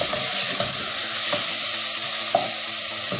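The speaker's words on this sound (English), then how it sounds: "the meat is already cooking." Small cubes of meat sizzle steadily as they cook in a pot, a loud continuous frying hiss with faint clinks of stirring and no voices.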